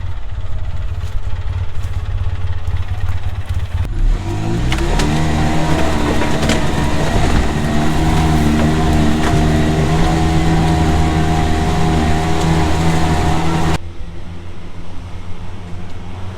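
A Polaris Ranger UTV with new axle shafts pulls in four-wheel drive. Its engine drones steadily, then rises to a loud, sustained, strained revving that holds for about ten seconds before dropping back to a lower idle-like rumble.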